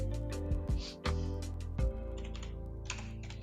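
Rapid key clicks on a computer keyboard as a user name is typed during a Linux Debian installation, a quick close run of taps over a steady background hum with no talking.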